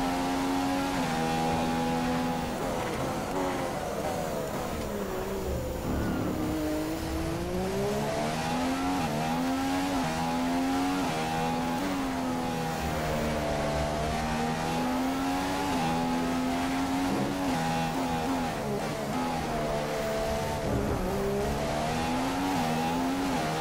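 A Formula 1 race car in the F1 2015 video game screams through Monaco's tunnel and harbour chicane, its engine revving loud and close, pitch rising and falling continuously through gear changes with no talk.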